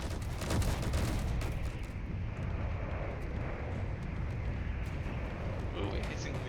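Heavy sustained weapon fire from Gatling guns in the Space Engineers game, a dense continuous rattle of rapid shots layered with booming impacts and battle noise, loud and unbroken throughout, with speech mixed in.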